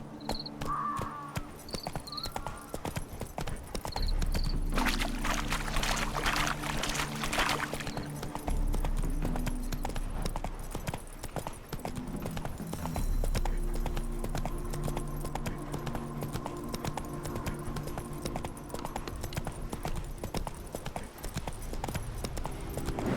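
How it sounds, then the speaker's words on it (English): Roach, a horse in The Witcher 3 game, clip-clops along in a steady, even hoof rhythm, with crickets chirping softly in the background and occasional low voices talking. "Spooking my horse."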